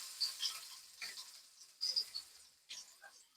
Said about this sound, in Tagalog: gisa muna tayong sibulas